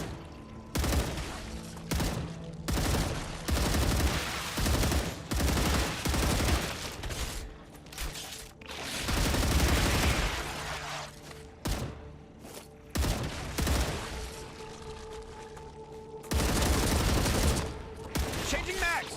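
Rapid bursts of gunfire from the video game StarRupture, loud repeated volleys and sustained automatic fire separated by short pauses across the whole stretch.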